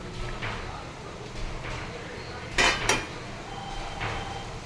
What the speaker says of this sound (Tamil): கொஞ்சம் ஒரு தடவை கலக்கிக்கோங்க.